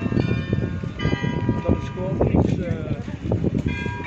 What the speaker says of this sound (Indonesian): Ini suara dari gereja ya, yang sedang mempermainkan musik.